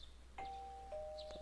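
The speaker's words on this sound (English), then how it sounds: "You hear a doorbell ring." Doorbell chime in the video game Persona 4, a clean two-tone ding-dong sounding once, clear and alone.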